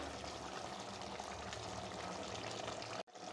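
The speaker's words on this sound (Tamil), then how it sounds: "நம்ம எவ்வளோ தேவைப்படுதோ அந்த தண்ணி ஊற்றிருக்கேன்" Water is poured into a pot while chicken biryani cooks in a home kitchen, making a steady, dense hiss-and-splash that runs without a break and then cuts off abruptly near the end.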